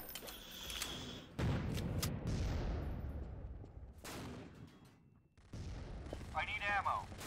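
Gunfire and artillery in the Empires mod: heavy booming blasts strike one after another, each trailing off in a long rumbling decay, with clattering mechanical noise between them.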